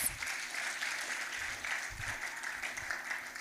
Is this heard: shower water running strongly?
no